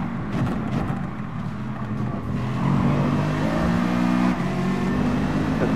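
A Lamborghini race car in Gran Turismo Sport roars past, its engine revving loud and close with a rising, harmonic-rich growl that holds strong to the end, with no talk over it.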